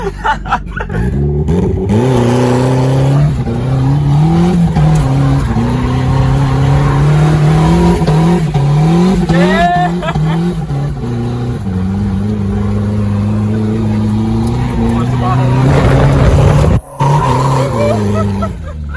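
A rear-wheel-drive WRX or turbo Miata drifts in practice, its engine revving and changing pitch with repeated tire squeals, loud and close, while people talk excitedly over it.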